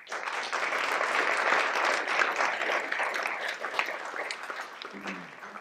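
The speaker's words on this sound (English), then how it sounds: "with that rapturous applause" An audience at a partnership gathering breaks into rapturous applause, dense sustained clapping that fills the room for several seconds before thinning out at the end.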